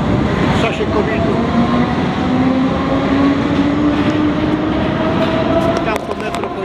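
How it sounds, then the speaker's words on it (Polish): A Paris metro train rolls out of the station, its steady loud rumble and rising whine filling the platform while people talk nearby. "Tam to metro pojechało"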